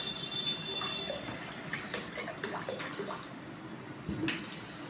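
Water pours into a small bowl holding sugar for pizza dough, a faint, continuous trickle and splash at close range with a few small drips and clinks.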